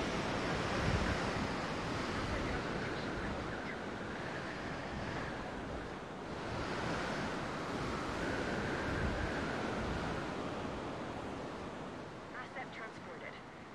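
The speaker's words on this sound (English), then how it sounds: "Slight case of windy storms." Windy storm weather in the video game Jurassic World Evolution 2, a steady, loud rush of gusting wind and surf-like noise that surges and eases throughout.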